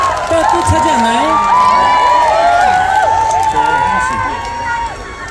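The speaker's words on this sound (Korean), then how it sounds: "팬 여러분들 다시 한번 큰 박수 부탁드리겠습니다." A large outdoor concert crowd of thousands at a trot show cheers and shouts loudly and continuously, with a voice carrying over the roar.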